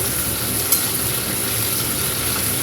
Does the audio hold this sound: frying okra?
yes